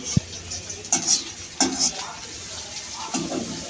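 Food being stirred and lightly browned in a pot in a home kitchen, with soft sizzling and a few clinks of the spoon against the pan at a moderate distance.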